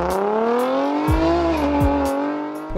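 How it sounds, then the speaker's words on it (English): Honda Jazz GK5 hatchback driving, a steady engine note climbing gently in pitch with a couple of brief thumps, close and continuous with no talk. "I'll let you guys feel how this car drives"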